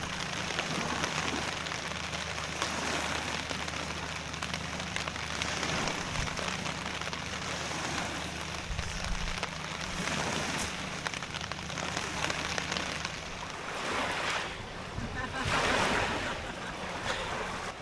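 Heavy rain pouring onto a tarp shelter over a tent at a wet overnight camp, a dense continuous drumming hiss with low rumble throughout.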